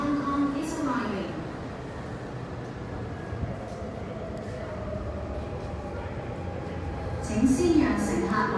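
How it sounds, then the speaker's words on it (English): An MTR subway train pulls into the platform at Lai King Station in Hong Kong, a steady rumbling roar of the approaching train with a rising screech near the end, while a voice speaks in the foreground. "The train to Hong Kong is arriving."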